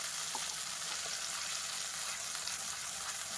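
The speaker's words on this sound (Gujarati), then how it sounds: "બસ તેલ ગરમ થઈ ગયું છે, ઉમેરી દઈશું આપણી દહીંવાળી પેસ્ટ. મિક્સ કરી લઈશું." Yogurt spice paste hitting hot oil tempered with mustard seeds, cumin and asafoetida, a dense continuous hiss of sizzling, fairly soft and even, with a few faint stirring clicks.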